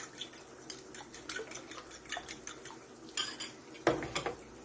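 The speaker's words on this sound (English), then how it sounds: "I am using the fork today because I don't want to over whisk it. I'm just trying to mix the yolk with the white" A fork whisks egg yolk and white together in a bowl, giving a run of quick, light clinking taps against the side, with a sharper knock near the end.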